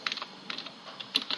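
Typing on a computer keyboard during a coding session, short bursts of soft key clicks in an irregular rhythm, quiet and close, with no talking.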